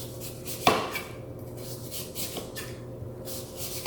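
A kitchen knife cutting the rind off a honeydew melon, one sharp crisp cut followed by quieter scraping and slicing strokes, close and fairly soft, with no talking.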